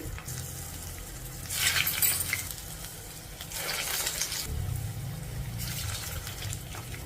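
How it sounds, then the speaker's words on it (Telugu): Urad dal vadas deep-frying in hot oil over a medium flame, a continuous soft sizzle with louder bubbling surges as pieces are turned, close and without speech. "ఇలా ఇంకొక సైడ్కి తిప్పేసుకుంటూ మంచి కలర్ వచ్చే వరకు ఫ్రై చేసేసుకోవాలి"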